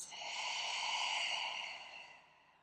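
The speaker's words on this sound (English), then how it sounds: "And one more deep breath out." A single long, deep exhale during a yoga session, a steady airy rush of breath that swells, holds, then fades over about two and a half seconds, close and alone.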